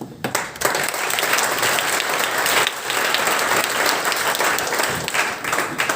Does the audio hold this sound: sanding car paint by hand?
no